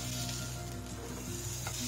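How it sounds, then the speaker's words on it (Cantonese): Foie gras searing without oil in a hot nonstick pan for a sous vide duck breast dish, a brief, close, steady sizzle with low kitchen hum and no talk. "到最後我哋就會煎呢個鵝肝"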